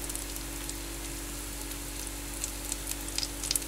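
Biscuit dough cooks slowly in a skillet with a soft, steady sizzle under a low mains hum, with a few faint crackles and pops near the end.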